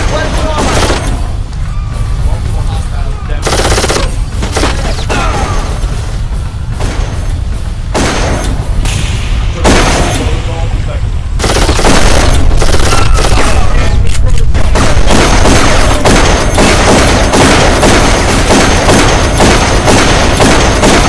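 Automated turret machine gun fire in the Darkest of Days video game: dense, loud, continuous bursts of gunfire with booming impacts throughout, growing heavier partway through, with game dialogue mixed in.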